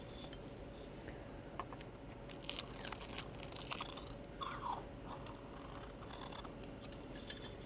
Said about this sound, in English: I cut along the top, and now I'm cutting along the bottom.